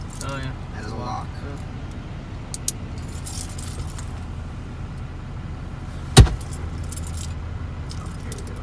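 A set of keys jangles briefly during a motocross outing at Marysville, with a sharp metallic rattle standing out amid wind, background noise and people talking.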